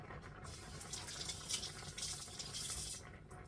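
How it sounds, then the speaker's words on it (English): Tap water runs steadily into a sink while green bell pepper and garden seasoning are rinsed beneath it, a continuous close splashing rush that rises and falls softly as the vegetables move through the stream. "Very important to wash your vegetables and your garden seasoning"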